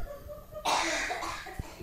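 A single sharp cough bursts out suddenly close to a microphone during a casual podcast recording, trailing off into a short rasp after a quiet moment of room hum.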